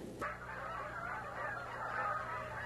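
Canada geese honk continuously at a wildlife refuge in winter, a blended chorus of calls heard from a short distance.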